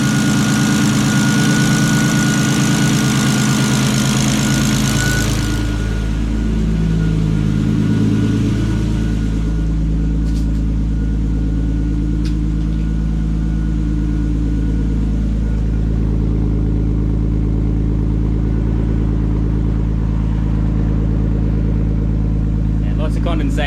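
A Nissan Stagea with an RB25DET engine, fitted with an upgraded fuel rail, injectors and regulator, idles loudly and steadily close by, its deep continuous drone settling slightly after an early rev.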